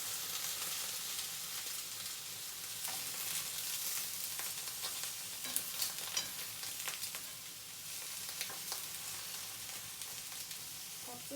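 Eggplant frying in a generous layer of oil in a pan, a steady close sizzle with scattered pops and crackles throughout, no talking.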